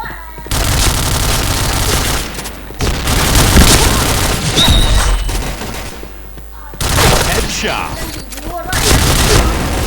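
Rapid bursts of gunfire and booming shots from the Point Blank shooter game, loud and dense across the whole stretch with brief gaps, while a player's voice talks over it.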